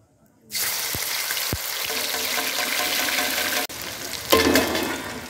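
Sliced potatoes and pointed gourd drop into a little hot oil for a fish and pointed gourd curry, bursting into a loud, steady sizzle with a couple of dull knocks and a brief flare near the end.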